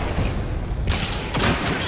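Gunfire in the video game Hunt: Showdown, a loud dense burst of shots with a second report about a second later over a busy, roaring background.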